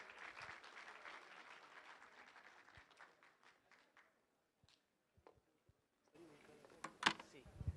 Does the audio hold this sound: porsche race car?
no